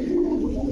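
A pigeon at a pigeon market coos loudly and close, a steady, resonant throaty call that fills the short moment with little else around it.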